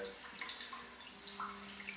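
A heated bidet toilet seat's metal wand sprays warm water, making a soft continuous hiss and trickle with a faint electric hum underneath, close by and even in level.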